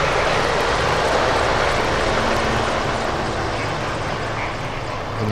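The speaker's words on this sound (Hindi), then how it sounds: "MI-17 हेलीकॉप्टर्स की फॉर्मेशन।" A formation of MI-17 helicopters flies over the Pakistan Day military parade at the Parade Ground in Islamabad, giving a loud, steady broadband engine and rotor roar that stays constant throughout with no speech.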